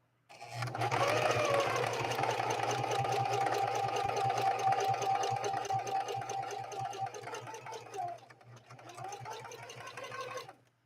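A Singer 4411 heavy-duty sewing machine runs a steady, close stitching whir for about seven seconds, slows and pauses briefly, then starts up again, with a low mechanical hum underneath throughout.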